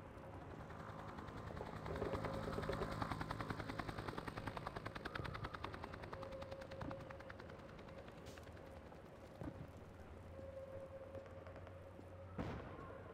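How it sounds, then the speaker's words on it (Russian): Distant gunfire in the video game Half-Life 2, repeated rapid bursts like machine-gun fire rattling continuously over an outdoor ambient hum, with a few sharper isolated shots near the end. "Также слышны чьи-то выстрелы."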